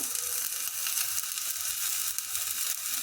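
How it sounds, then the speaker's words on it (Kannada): Butter melting in a hot pan for tambuli, a close, continuous bright crackling sizzle with no voices. "ಬೆಣ್ಣೆ ಹಾಕ್ತಾ ಇದ್ದೀನಿ"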